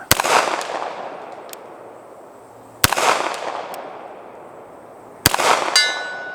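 Three sharp, loud pistol shots from a CZ SP-01 Tactical fired at a 100-yard target outdoors, spaced a few seconds apart, each with a long ringing echo and a faint metallic ping from the distant steel.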